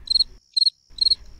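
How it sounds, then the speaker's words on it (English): A cricket chirps in three evenly spaced bursts, each a quick trill of a few pulses, clear and close against a quiet background. "Cricket,"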